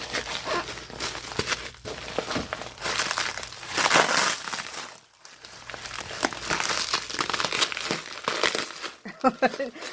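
Crinkling and crumpling of packing material and a cardboard box packed with cardstock, loud and close, with rustling bursts throughout and a voice talking intermittently.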